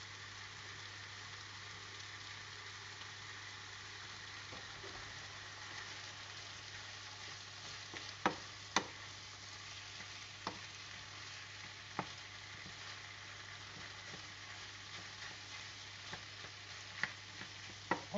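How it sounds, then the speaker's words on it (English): Chicken pieces browning in a pan for chicken and bacon pies, a steady close sizzle and frying hiss with occasional sharp clicks and taps from utensils, no talking. "So we're going to let the chicken brown a little bit."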